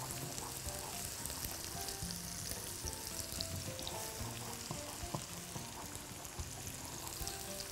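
Vegetables frying and being stirred in a pan for a tomato-based sauce, a steady close sizzle with soft scraping stirs and small pops throughout.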